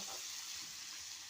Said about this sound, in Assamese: মই ভাজি বনাই আছো ভাজি